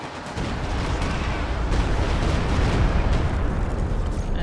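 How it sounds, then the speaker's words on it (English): Stuka rocket artillery firing in a strategy video game, a dense, sustained roar of launches and blasts building steadily over several seconds with no talk. "Stuka firing."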